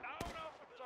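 A single distant musket-like gunshot crack in the Civil War shooter War of Rights, brief and sharp, heard during a battle with voices in the background.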